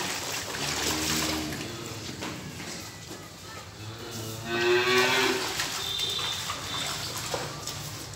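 Dairy cattle moo at midday feeding time on a farm, several drawn-out calls near and at moderate distance, with a trickle of water and a voice talking faintly in the background.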